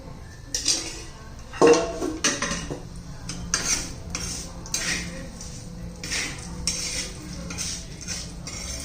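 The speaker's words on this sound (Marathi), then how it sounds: "पहिले थोडंसं असं भाजून घ्यायचे तीळ आणि लसूण. थोडंसं तेल घालून घेऊया." Sesame seeds and garlic roast in a little oil in a pan while a utensil scrapes and clinks against the metal in irregular bursts, with a soft frying hiss underneath, close and moderately loud, for a Solapuri peanut chutney.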